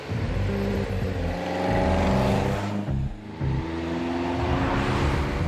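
A classic 1971 Alfa Romeo's engine drones loudly as it climbs an Alpine mountain pass, pulling steadily with a brief dip in revs around a gear change before resuming its strong note.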